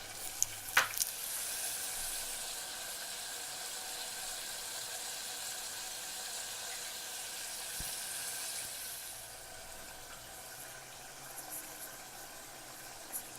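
Mutton with ginger garlic paste sautéing in oil over a high flame, a steady soft hiss with faint scraping and a couple of brief clinks near the start, quiet and continuous with no talking.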